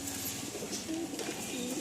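Pigeon with a fully closed tail cooing softly and steadily, a low murmuring call set against faint background noise.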